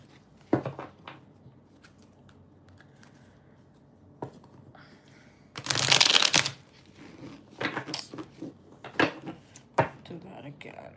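Tarot cards being shuffled nearby, with scattered riffles and taps and a louder burst of rapid flutter in the middle.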